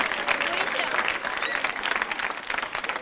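Quiz show studio audience clapping steadily and loudly at a Republic Day special, a dense continuous wash of applause with a voice speaking over it.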